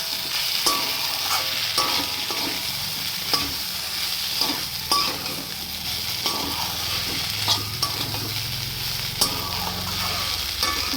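Potatoes sizzle steadily in hot spiced oil in a pan, with a spatula scraping and clattering through them at regular intervals over a continuous frying hiss.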